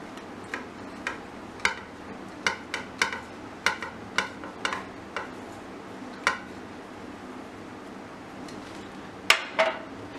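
Cheese ball ingredients are mixed in a bowl, the spoon or utensil knocking against the bowl in sharp intermittent clicks and taps, spaced irregularly across a quiet background.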